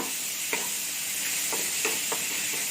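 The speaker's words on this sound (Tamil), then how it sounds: "தக்காளி சேர்த்து நல்லா இதை மிக்ஸ் பண்ணிக்கலாம்" Tomatoes sizzle steadily in a hot pan for tomato chutney, with several soft scraping stirs at irregular intervals and no talking.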